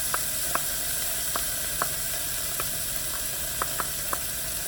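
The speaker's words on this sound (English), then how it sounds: "I'm going to add the garlic." Garlic added to onions sizzles in a hot pan, a steady broadband fry hiss with scattered crackling pops, close and continuous, no voices.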